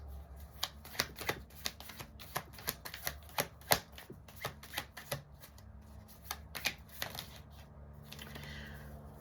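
Oracle cards are shuffled by hand in a quiet room, giving a run of soft, crisp riffling snaps and taps that come in irregular bursts, close and faint.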